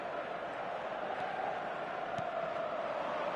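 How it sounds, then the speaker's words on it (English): Stadium crowd in an eFootball 2023 match, a steady, dense roar of massed voices with a faint chanting band, continuous and moderately loud, with no commentary over it. "The crowd are calling for this to be put to bed."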